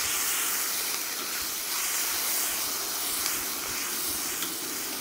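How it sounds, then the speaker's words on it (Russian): Meat and onions fry in a kazan for plov, producing a loud, continuous, dense hiss of sizzling oil that stays even throughout, close up, with no voices. "Обжариваем с луком."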